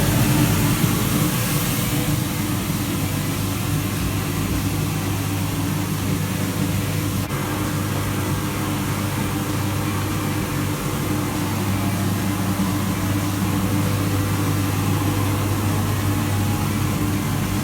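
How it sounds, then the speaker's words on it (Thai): A galvanized sheet-metal smoke hood, 1.2 m long and 1 m wide, with its single extraction fan motor running at full power, gives a loud, steady, unbroken roar with a deep low hum throughout, nearby and with no voices. "ใช้เครื่องหนึ่งแรงครับผม เสียงก็จะกระหึ่มประมาณนี้ครับ"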